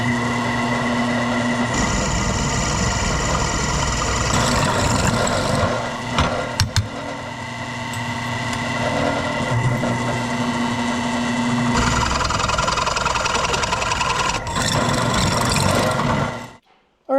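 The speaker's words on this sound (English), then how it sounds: "We'll drill them out and set the riv nuts in there." Metal drilling through steel seat bracket plates for a 1968 Ford Mustang seat bracket build, a steady close whine with a break midway and a second drilling run, no talk.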